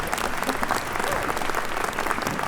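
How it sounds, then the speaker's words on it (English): Steady, dense applause fills a law school commencement ceremony hall, many hands clapping together at an even level throughout with no voices standing out. "So please join me in giving a warm round of applause."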